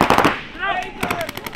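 Paintball markers fire during an outdoor paintball game: a quick burst of rapid pops at the start, then scattered shots, with shouting players nearby.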